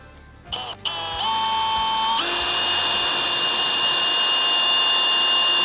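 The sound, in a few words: power drill drilling a hole through a camper panel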